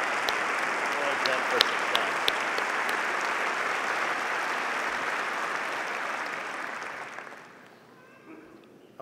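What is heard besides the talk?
audience applause for faculty at graduation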